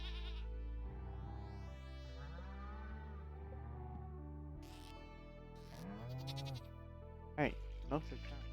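Sheep bleating in the farming game Stardew Valley, several wavering game bleats spread across the clip over music, with a couple of sharper sounds near the end and speech mixed in.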